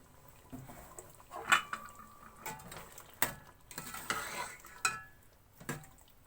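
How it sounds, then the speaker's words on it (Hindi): Ojri (tripe) being stirred in a cooking pot after cooking oil is added, with quiet scraping, occasional sharp clinks of a utensil against the pot and a faint sizzle underneath. "एक कप मैं कुकिंग ऑयल शामिल कर लूंगी।"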